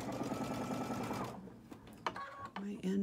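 A sewing machine stitches straight across the joins of quilt-as-you-go blocks, running steadily and close for over a second, then stopping, followed by light handling clatter and brief whirs.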